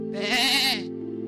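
A human voice imitates a sheep's bleat, giving a single sustained, wavering "baa" that is loud and close, heard alone during a church sermon.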